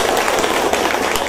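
Wedding guests applaud together at a Vietnamese wedding ceremony, a dense, steady wash of clapping that fills the whole moment at close range.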